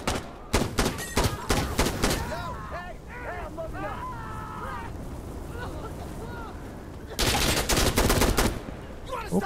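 Sharp bursts of automatic gunfire in the shooter game Insurgency Sandstorm crack loudly near the start and again at the end, separated by a stretch where someone speaks over faint background noise.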